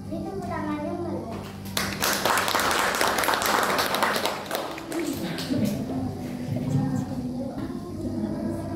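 A burst of clapping from the audience at a grade 2 elementary school report card ceremony swells for a few seconds in the middle, with children's voices chattering before and after.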